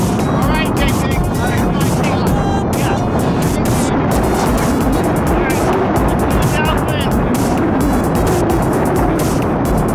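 An RC plane's electric motor held near hover in strong wind, a close continuous whine mixed with heavy buffeting wind noise for the whole stretch.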